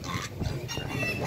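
Pigs at a busy pig market in Ibiapina, Ceará, giving repeated grunts and oinks over a constant crowd murmur, near and moderately loud.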